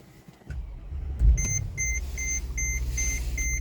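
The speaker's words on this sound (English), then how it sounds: "I'm gonna put it back again to start the car." A 2007–2012 Mercedes GLK 450 starts up: a short cranking thump, then the engine settles into a steady low idle while a dashboard chime beeps repeatedly at an even pace.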